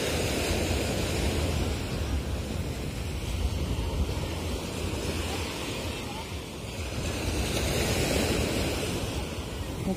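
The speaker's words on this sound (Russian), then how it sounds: "Вот такой берег на Мезетли." Surf rolls steadily onto the beach at Mezitli in Mersin, Turkey, a broad continuous wash with gentle swells and some wind across the microphone.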